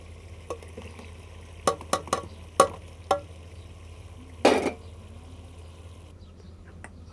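Tomatoes fry in a pan with spiced chicken for aloo chicken, giving a quiet, steady sizzle punctuated by several sharp clinks and scrapes of a spoon stirring against the pan.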